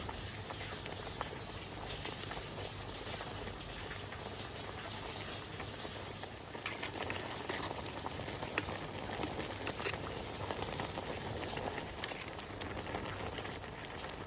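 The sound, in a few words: rice and pomfret fish boiling together in a pot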